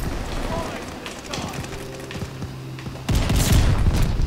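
Shotgun blasts fired fast in a video game, several sharp loud reports in quick succession with a bigger burst near the end, over game noise and a faint tonal background.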